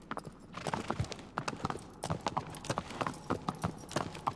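Horse hooves clip-clop in Shadow of the Colossus: a steady, brisk gallop of close, crisp hoof strikes that runs alone throughout.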